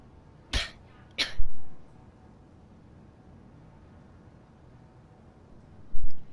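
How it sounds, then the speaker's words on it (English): Two sharp, close coughs in quick succession followed by a pause over faint background noise, then another brief cough-like burst at the end, with no talking. "I'm sorry, I have to cough."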